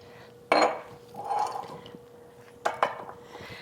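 Brown sugar and vinegar stirred together in a bowl: a few sharp clinks and scrapes of a utensil against the bowl, with a softer stirring swish between them, close and fairly quiet.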